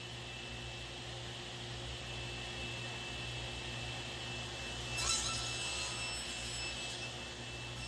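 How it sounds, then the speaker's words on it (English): Mortices cut into wooden ends with a simple tenon jig make a steady, low rasping hum throughout, with a slightly brighter scraping burst near the middle, fairly quiet and with no talk. "I started by cutting these mortices into the ends with a simple tenon jig"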